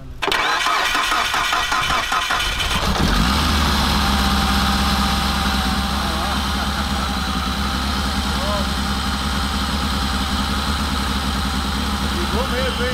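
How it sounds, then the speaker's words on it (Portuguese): An Audi TT VR6 turbo quattro with a DSG gearbox cranks briefly and fires up, then settles into a loud, steady, rumbling idle close by, with voices faintly mixed in. "eu quero ver esse carro ligando"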